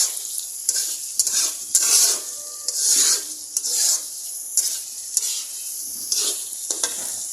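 Potatoes stirred in a frying pan with kochur loti (taro stolons), part of a prawn curry, with steady hot sizzling and repeated scraping strokes of a spatula in a rhythmic pattern, close and fairly loud, no talk.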